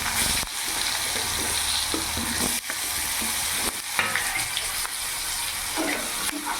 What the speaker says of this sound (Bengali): বেগুনগুলো লাল লাল করে ভেজে নেব।